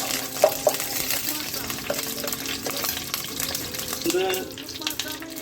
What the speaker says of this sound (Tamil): இது வந்து பே லீஃப், ஆட் பண்ணிட்டு இது லைட்டா இதை ஃப்ரை பண்ணிக்கோங்க.